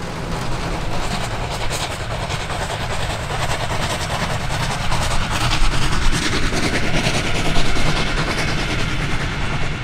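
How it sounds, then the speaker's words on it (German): A steam locomotive fired with wood pellets works at full power hauling a heavy train, its loud rapid exhaust beats and rumbling running gear building steadily with rail clatter throughout. "Das Lokpersonal holt jetzt alles aus seiner Maschine heraus und wagt sich an die Leistungsgrenze heran."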